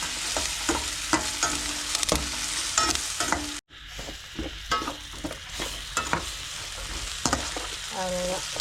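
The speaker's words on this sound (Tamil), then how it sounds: "இஞ்சி பூண்டு பேஸ்ட்டு எல்லாமே சேர்த்து நல்லா வதக்கி வச்சுப்போம்" Ginger garlic paste with cashews sautéing in a pan for a village-style dinner, a steady sizzle and fry with repeated scraping stirs of a utensil throughout, close and fairly loud.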